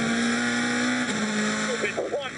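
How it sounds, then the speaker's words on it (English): Lada touring car on a flying qualifying lap in the 2016 WTCC race in Slovakia, its engine a steady high drone that shifts pitch as it changes gear, with a commentator talking over it. "Time now for Nicky Katzberg and his Lada to start their flying lap."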